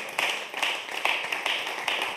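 A church congregation applauding together, a dense, close wash of clapping with a slightly pulsing rhythm that holds steady for a couple of seconds.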